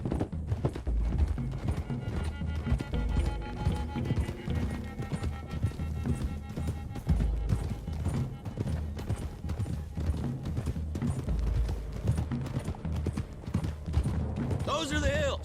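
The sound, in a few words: horses galloping, hooves clip-clopping, from video game Red Dead Redemption 2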